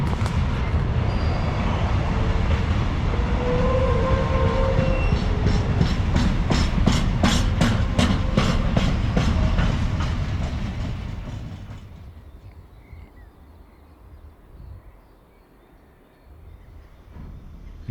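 A train rumbles past nearby with a rapid rhythmic clickety-clack of wheels on rails, then fades into quieter ambient noise.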